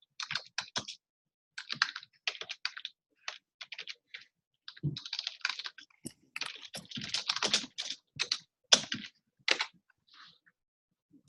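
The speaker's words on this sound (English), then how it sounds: "I'll just type in the chat here." Typing on a computer keyboard in a quiet room, with close, crisp key clicks in irregular bursts and short pauses, steady and unhurried with no talking.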